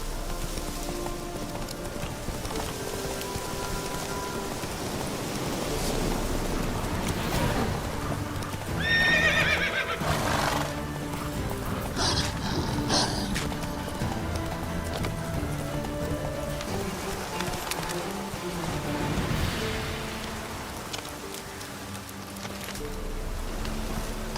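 A horse in a fantasy video game gallops with steady clip-clop hooves and lets out a clear whinny midway, with rain pattering and game music underneath.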